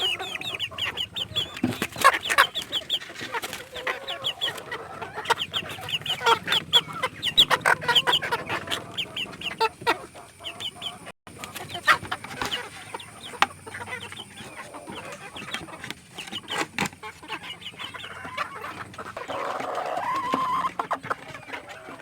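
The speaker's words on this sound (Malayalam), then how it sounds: "ഇവരൊക്കെ ഏകദേശം നാല് മാസം പ്രായമുള്ള കോഴിക്കുട്ടികളാണ്" Several four-month-old chickens clucking and chirping in a busy, continuous flock chatter, with scattered sharper calls over a steady outdoor background.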